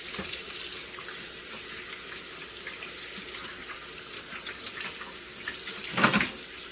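Running tap water pours steadily into a kitchen sink while raw tilapia fish is rinsed beneath it, a continuous close splashing gush with a brief louder splash near the end.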